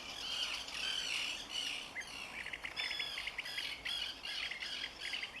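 Newborn wetland bird chicks on a reserve give repeated shrill, squawking calls, two chicks close by and fairly loud, chirping almost without pause over a soft outdoor background hiss.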